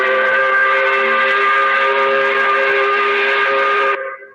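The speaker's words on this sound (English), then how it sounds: "We recognize it by blowing the 5 o'clock whistle." A loud, steady factory-style 5 o'clock whistle blows continuously for about four seconds with a rich, chord-like harmonic tone, then cuts off abruptly and leaves a brief fading echo.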